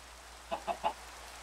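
A chicken gives three quick, evenly spaced clucks at moderate volume over a soft steady background hiss, with no talk.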